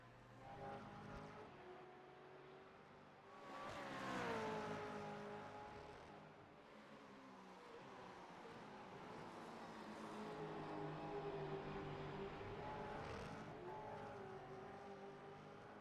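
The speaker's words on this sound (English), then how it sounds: "Listen to the sound these cars make." Race cars in the iRacing sim race at Oulton Park give sustained engine drones whose pitch sweeps up and down with shifting and passing, swelling loudest around a car passing by midway, with no talking.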